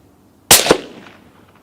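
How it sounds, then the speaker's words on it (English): A rifle fired at 50 metres on a range while zeroing a Sightmark Wraith night vision scope on a Sauer 100, one sharp close crack with a second quick report right after and a decaying tail. "I'm just going to have a few shots at 50 metres just to double check I'm doing everything in the correct direction"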